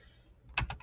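Typing on a computer keyboard while writing a Christmas greeting in a school card project: a few quick close keystrokes clustered near the end of a short, otherwise quiet moment.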